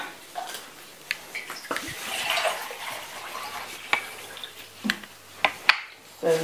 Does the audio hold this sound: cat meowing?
no